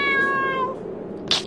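A cat meows inside the horror role-playing video game Be the Slenderman, one drawn-out tonal meow followed by a brief, higher chirp, clear and close with no talking over it.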